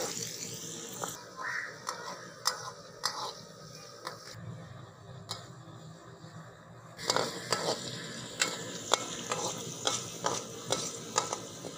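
Finely chopped onion frying and being stirred in a pan for palao, with soft sizzling and repeated scraping and clattering strokes, quieter at first and busier in the second half.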